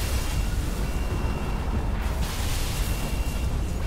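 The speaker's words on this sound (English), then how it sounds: "A lot of explosions." Explosions in the Halo 3 campaign, a dense continuous roar of booming blasts with no clear gaps, loud and close throughout.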